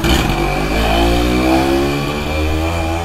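Yamaha YaZ motorcycle on a test ride, its small two-stroke engine revving up and holding a buzzing, slightly clattery note, close and steady with no talk.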